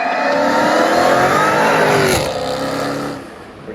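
Dodge Hellcat with a Valvetronic Designs exhaust and supercharger whine, a loud, close revving roar that climbs, then drops back and fades slightly toward the end.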